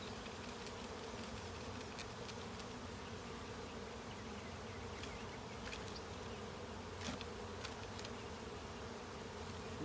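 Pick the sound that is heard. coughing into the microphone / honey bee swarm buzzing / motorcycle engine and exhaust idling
honey bee swarm buzzing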